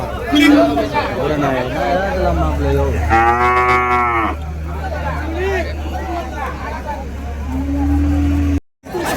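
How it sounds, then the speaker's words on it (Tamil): Native bulls at the Uthangarai cattle market give a loud, drawn-out moo near the middle, heard over steady crowd babble, distant traffic and people talking throughout. "ஸோ இங்கே ஒரு ஜோடி நல்லா சூப்பரான ஜோடிங்க. நாட்டு காளைங்க தான்."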